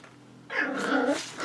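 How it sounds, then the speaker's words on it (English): A 3-month-old puppy growls and barks close by, a short, loud burst of agitated vocalizing that starts abruptly after a quiet moment and continues steadily without any talk. "Okay, Tula, that's my 3-month-old puppy, is getting bored."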